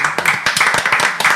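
Rapid, close hand clapping, a fast continuous patter of claps from one person or a small group.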